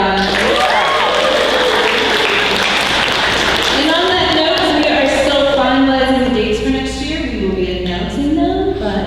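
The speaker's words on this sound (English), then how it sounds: "Can we give a round of applause for Marriott?" A convention audience at a closing ceremony in a hotel applauds steadily throughout, with a voice speaking over the clapping and a few other voices.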